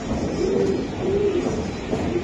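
Racing pigeons at a pigeon farm coo in low, repeated phrases, about three soft rounded calls over a steady background murmur of the flock, with no talking.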